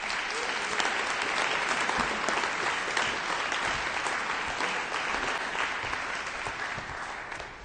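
Steady, full applause from a seated audience honouring volunteer award finalists at a state awards ceremony, continuous dense clapping that fades slightly toward the end.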